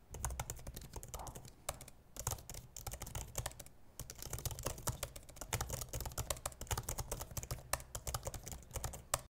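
Rapid, steady keystrokes on the keyboard of an M2 MacBook Air, close and crisp, with brief pauses between bursts of typing and no talking.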